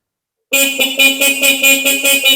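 A Honda Vario 110 motorcycle horn honks repeatedly in short, pulsing toots right after silence, loud and close, with a nasal, buzzy tone.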